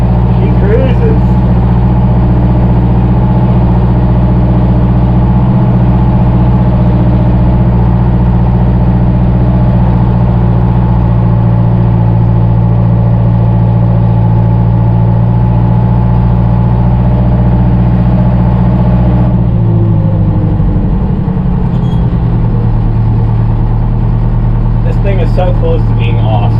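A Fiat Allis track loader engine runs loud and steady while driving in a higher gear, a deep continuous drone that shifts pitch near the end, with a voice talking over it.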